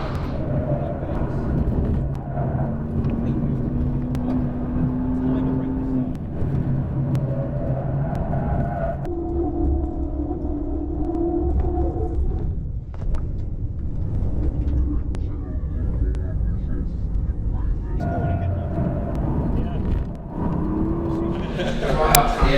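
BMW M2 Competition or M5 Competition driven fast around a race track, heard from inside the cabin as a steady engine drone that rises and falls in pitch through gear changes and corners, with occasional speech.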